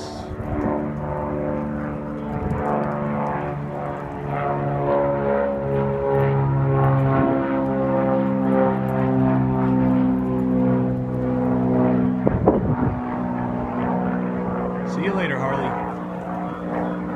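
A Cirrus light aircraft takes off, its propeller engine droning steadily at close range for the whole stretch with a strong even tone, while brief voices and radio-style talk come in partway through.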